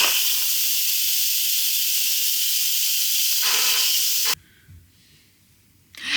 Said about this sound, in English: So now, let's release the remaining pressure.